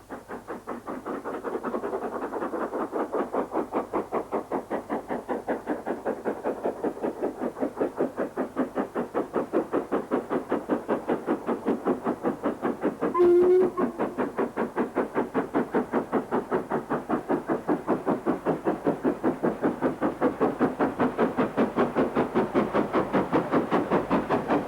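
An LMS express steam locomotive, a big Pacific, works along the line, its rapid regular exhaust beats pulsing steadily under a hiss, moderately loud and unbroken.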